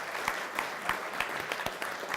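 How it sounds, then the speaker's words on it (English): Audience applause at a tech talk on next-generation TV platforms, a short burst of clapping from a seated crowd, fairly close and even, with no voices over it. "Big round of applause for Rathe."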